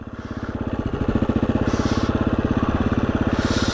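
A motorcycle engine pulses in a fast, even beat, close and loud, rising slightly in revs as the rider sets up a small front-wheel lift.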